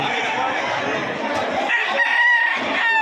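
Several roosters for sale crow over a busy market din, with overlapping calls and some clucking amid chatter nearby.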